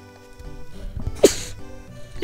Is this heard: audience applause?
no